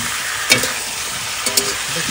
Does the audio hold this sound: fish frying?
yes